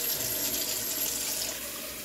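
Tap water runs steadily into a sink during rinsing, a constant close broadband rush with no talking.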